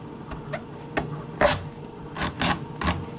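A knife works through a tough spaghetti squash, trimming off the top, in a series of uneven crunching, rasping strokes with short pauses between them, close and fairly loud.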